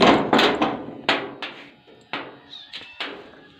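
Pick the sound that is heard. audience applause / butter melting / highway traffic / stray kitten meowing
stray kitten meowing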